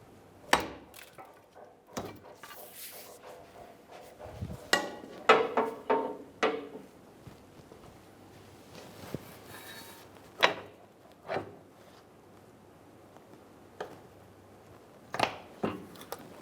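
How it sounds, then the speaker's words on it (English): A large pry bar working a CV axle out of the rear differential of a 2008-2017 Buick Enclave, with a series of sharp metallic knocks and clunks, spaced irregularly, close by with quiet pauses between. "Using a large pry bar, we're going to pop the axle out of the rear differential."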